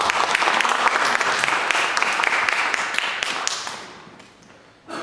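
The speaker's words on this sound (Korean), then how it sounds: "우리 다시 한번 살아계신 하나님께 영광의 박수를 드립니다." Loud, close applause rises from a church congregation during a Sunday service in Sydney, bright crisp clapping that tapers off toward the end before a voice resumes.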